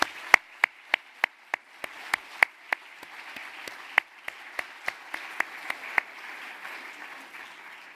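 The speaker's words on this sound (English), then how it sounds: "I would like to ask you for a big applause for EDPS staff that helped today" Sparse, slow clapping at the European Data Protection Summit in Copper Hall: single sharp claps spaced evenly about a third of a second apart, sounding like only a few people joining in, with a quiet room behind.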